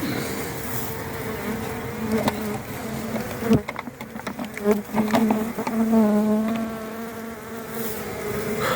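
A dense, steady buzzing of many honeybees close by at an open hive, with wavering pitch and occasional knocks and rustles throughout.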